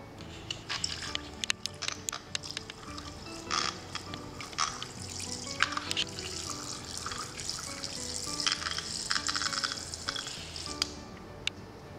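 Water pours into an electric egg boiler with a steady, close splashing trickle, broken by small drips and clinks that run unevenly throughout. No one speaks over it.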